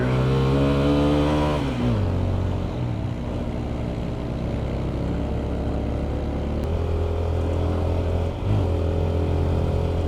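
A motorcycle engine labours uphill in first gear on a steep mountain road toward Keokradong, a loud, close, continuous drone whose pitch drops as the bike changes gear and then holds steady under load.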